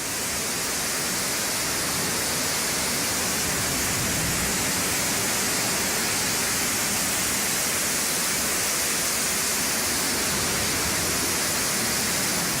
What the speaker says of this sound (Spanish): La estación Panteones de la línea 2 parecía una cascada.